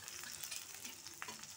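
Garlic, shallots and curry leaves fry in a hot pan for a brinjal stir-fry, giving a steady close sizzle with a few scraping stirs and no voices.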